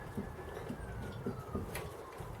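A faint emergency siren wails steadily in the distance behind a garden allotment, partly masked by cooing pigeons and other birdsong, with no talk.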